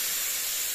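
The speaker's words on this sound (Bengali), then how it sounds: "তেলটা হয়ে গেছে, এবার তরকারিটা ঢেলে দেবো।" Bottle gourd curry hitting hot oil in a pan sets off a steady, bright sizzling hiss that holds evenly for a brief moment, close and fairly quiet, with no voices over it.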